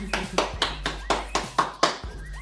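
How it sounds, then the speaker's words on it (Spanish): A few hands clap for Jay during a Jenga challenge game, giving about seven distinct, close claps in an uneven rhythm with short gaps between them. "Todos aplausos a Jay."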